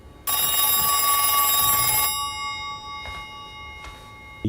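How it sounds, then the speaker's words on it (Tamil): Telephone in a house rings with a loud, bright electronic trill lasting about two seconds, followed by two fainter, shorter rings, over a quiet background. "அப்போ சடனாக ஃபோன் ரிங் அடிக்குது."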